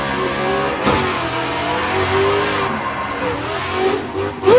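Turbo LS-engined car in Assetto Corsa at Meihan, revving hard through rising and falling engine pitch with tire squeal, loud and close without talk.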